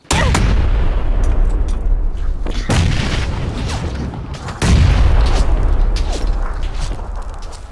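Heavy gunfire in a PUBG-style battle royale shooter, a loud dense barrage of booming shots, with two sharper blasts standing out over sustained noise.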